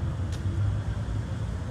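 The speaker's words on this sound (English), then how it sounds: "This is the main street, full of people, full of cars, lots of new sounds." Cars roll past on a busy downtown main street full of people, a steady low road rumble with no break, close by and heard alone.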